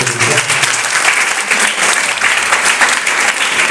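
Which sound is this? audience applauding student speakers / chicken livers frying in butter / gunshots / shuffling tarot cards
audience applauding student speakers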